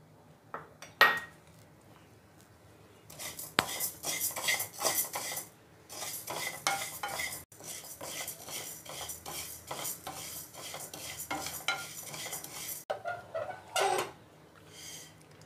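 Urad and toor dal roast together in a dry pan, lentils rattling and a spoon scraping against the metal in a close, busy run of stirring strokes after a few sparse clinks at the start.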